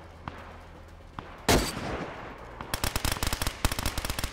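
Gunfire in the DayZ video game: a few scattered single shots, then a loud close blast, followed by rapid bursts of automatic fire in quick succession, sharp and fairly near.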